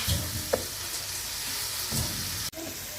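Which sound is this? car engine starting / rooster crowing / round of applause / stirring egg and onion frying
stirring egg and onion frying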